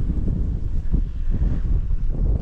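Gusty wind buffeting the microphone on the seafront at John O'Groats campsite, low rumbling bursts that rise and fall in quick waves, close and loud with no voices.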